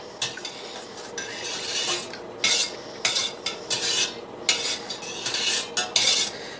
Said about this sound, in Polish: Wymieszamy teraz ten wywar.